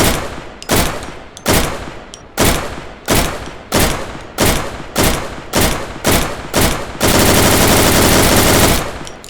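In the game Deadside, a Groza rifle fires in close, loud single shots and short bursts, about ten evenly spaced reports, then a sustained full-auto stream of roughly two seconds, with no voices.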